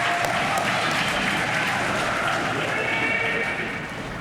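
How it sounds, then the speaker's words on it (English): Audience applause at a nursing college commencement ceremony, a dense, steady wash of many hands clapping at once that holds loud for about four seconds, then eases off slightly at the end. "give them a round of applause for the continued support and encouragement during your journey"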